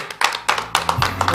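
A conference audience at a year-end gathering for overseas Koreans claps in thanks, a short, fairly sparse burst of separate hand claps with loose rhythm, close and moderately loud.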